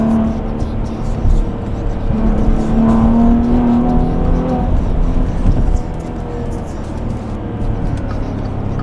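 A loud 2019 Maserati Levante S engine roars and revs, pitch swelling and falling, then easing to a steady throaty idle.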